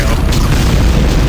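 A loud, dense boom fills the moment as an explosion blows up allied characters in a Shadow Warrior mod level, a continuous roaring blast with no gap.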